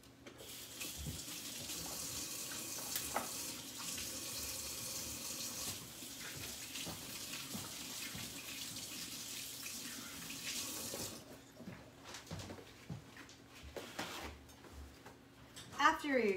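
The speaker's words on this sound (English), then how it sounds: "let's wash our hands." Water runs steadily from a kitchen tap during hand washing after handling egg for cheddar cheese straws, a continuous splashing stream that stops partway, leaving quieter sink clatter and some talk.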